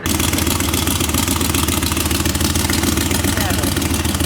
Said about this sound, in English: Nice little idle.